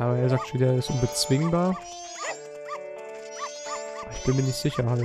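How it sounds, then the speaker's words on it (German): A dog in The Legend of Zelda: Majora's Mask 3D barks in repeated deep bursts over game music, while someone talks throughout. "Also er bellt ziemlich tief."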